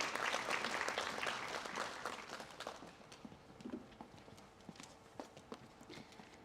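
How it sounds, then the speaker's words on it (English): Audience applause at a mushroom summit valedictory ceremony, dense clapping at first that thins into scattered, fading claps toward the end. "Please give her a round of applause."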